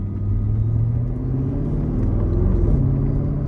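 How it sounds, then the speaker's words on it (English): A Mercedes-Benz SL63 AMG engine rumbles low and steady, then briefly rises in pitch as it blips on a downshift, close and deep without any talking. "telling the engine to jump up RPM when you shift down"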